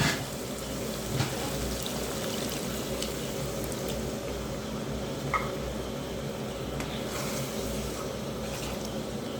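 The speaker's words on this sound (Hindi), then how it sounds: "अब हम इसमें डाल देंगे पानी" Water poured into a pot of aloo gosht curry as it cooks, a steady close pouring and bubbling sound that runs continuously, with a few faint clicks and no talking.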